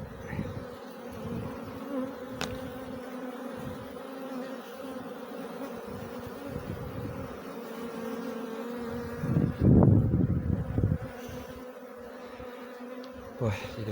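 A honey bee swarm drones in a continuous, close, layered buzz that swells louder for a few seconds partway through, with no talking.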